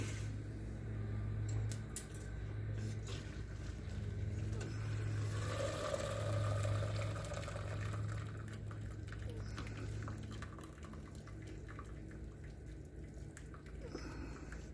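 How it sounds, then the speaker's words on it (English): Cooked pasta drains and gets tipped into a pan of Alfredo carbonara sauce, giving a long wet rush and slosh of water and squishing noodles that tapers off near the end, close and without speech. "I can go and pull the drain out and just dump the rest of the pasta in there"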